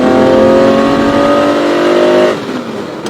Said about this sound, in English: we press the accelerator and away we go